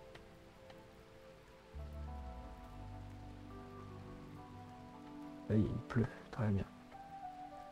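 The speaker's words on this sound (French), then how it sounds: "Là, il pleut." Rain in the RimWorld video game falls as a soft, steady patter under background game music, with someone speaking over it.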